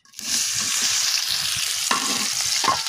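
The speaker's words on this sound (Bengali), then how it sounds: "আমি পুঁটি মাছ শুটকি কিছুক্ষণ ভেজে নিচ্ছি।" Dried puti fish shutki frying in mustard oil, a loud continuous sizzle with scraping stirs and a couple of sharp clatters near the pan.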